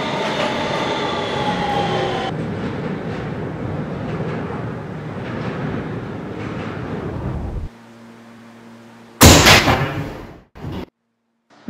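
A Kawasaki R160B Siemens subway train in a Roblox game of the New York Q line rumbles loudly and steadily, then drops to a low idle hum before a sharp burst of hissing and a brief quiet.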